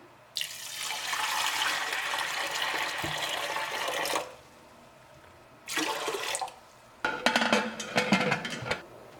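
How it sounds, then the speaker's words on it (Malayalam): Water is poured into lentils in a pressure cooker for spinach dal, giving a steady, fairly close gushing splash for about four seconds. After a pause come two shorter, more broken bursts of pouring. "ഇനി ഇതിലേക്ക് നമുക്ക് വെള്ളം ചേർക്കാം"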